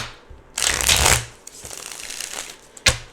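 Tarot cards being reshuffled by hand, a dense papery riffle in two close bursts, the first longer and louder, with lighter shuffling between them and no talking.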